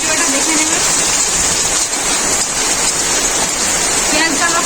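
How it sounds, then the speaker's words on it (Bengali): Steady rain falls outdoors during home cooking, a dense, continuous hiss that stays loud and even throughout, with no voices over it. "বৃষ্টির আওয়াজ কতটা কি শুনতে পাচ্ছেন জানি না"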